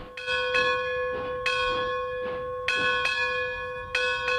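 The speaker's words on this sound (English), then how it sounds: "the engineer ringing the bell, signaling the final station stop." A steam locomotive's bell, Frisco Railway engine No. 4524, rings loud and close in slow, regular strokes, each clang sustaining a bright metallic tone before the next strike.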